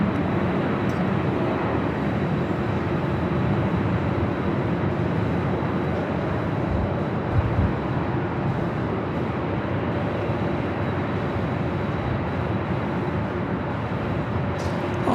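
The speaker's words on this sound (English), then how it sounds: "Have a United Dreamliner taking off on the south side" A United Boeing 787 Dreamliner takes off from LAX's south side, a distant, continuous jet roar with a steady low rumble that holds level for the whole stretch, with no voices.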